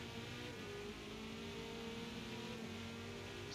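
Corvette race car engines in the Forza Motorsport racing game at a rainy Mugello circuit, a steady, continuous droning roar that holds level throughout with no voices.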